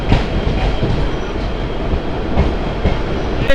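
A train rumbles loudly and close by at Lalgola railway station on India's border, its wheels clattering steadily over the rails.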